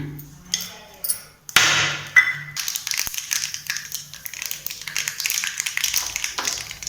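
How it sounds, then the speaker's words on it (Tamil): Mustard seeds crackle and spit in hot oil in a pan, a sharp clatter as they drop in followed by a steady, dense hiss of popping and sizzling up close. "இப்போ கடுகு போடுறேன். கடுகு பொரிஞ்ச உடனே"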